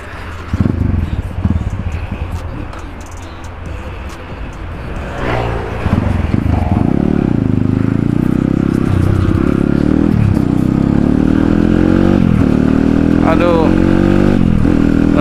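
A motorcycle engine runs steadily and loudly nearby, its low rumble continuous throughout, with voices talking over it.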